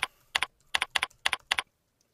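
Typing on a computer keyboard in short bursts, crisp close keystroke clicks in quick pairs and clusters, with no voice over them.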